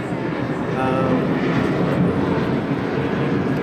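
A fixed-wing airplane drones overhead as a steady, broad engine rumble, strongest around the middle and easing slightly toward the end, fairly loud and continuous.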